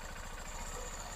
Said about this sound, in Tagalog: Ito yung tunog niya, magiging tunog niyo ha.